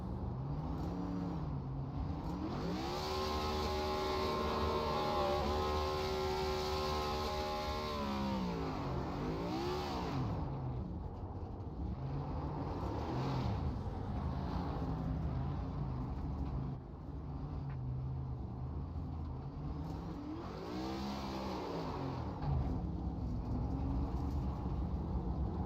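A stock race car in a racing video game at Pocono does victory burnouts, its engine revving up and down in repeated loud sweeps with a steady, close roar between them.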